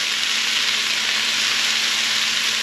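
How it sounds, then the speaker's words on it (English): Onions cooking in a dry pan with no oil, giving a steady, dense, close-up sizzle that holds evenly throughout with no pauses or voices. "we still haven't added any oil because I still want the onions to caramelize"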